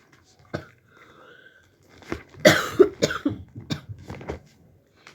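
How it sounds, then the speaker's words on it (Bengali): A person coughs close by in a quiet indoor room: a single early cough, then a cluster of harsh, uneven coughs and throat sounds, with no speech. "কাশি আসতেছে"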